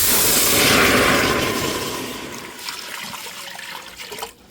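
About 1.5 quarts of water pours into a cooking pot in a loud, steady rushing gush that slowly tapers off into a thinner trickle over a few seconds.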